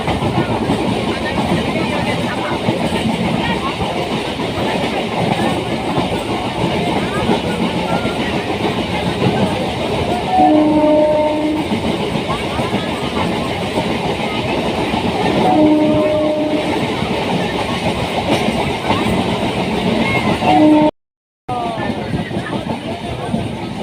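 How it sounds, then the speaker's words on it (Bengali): Loud, continuous rumble of a moving train heard from inside on a rainy day as it nears a station, with rattling carriages and brief horn-like tones sounding a couple of times. "এই যে দেখো এখন ট্রেনটা থামবে"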